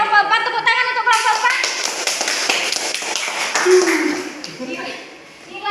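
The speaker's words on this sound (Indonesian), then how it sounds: "Tepuk tangan untuk kelompok" A classroom group at a microteaching practice session claps for a presenting team, a loud burst of many hands that starts abruptly, then thins and fades out near the end.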